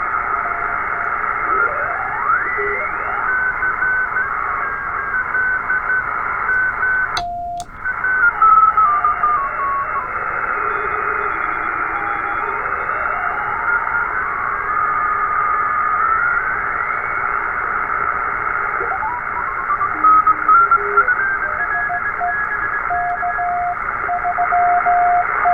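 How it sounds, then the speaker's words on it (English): Continuous CW Morse code signal received on a TR45L radio, steady tones riding over a band of hiss and noise, with a brief sharp click partway through and drifting whistles sliding across the band. "just listen to that CW signal coming in"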